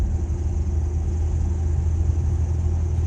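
A steady, loud low-pitched engine rumble drones without pause, like a car running close behind.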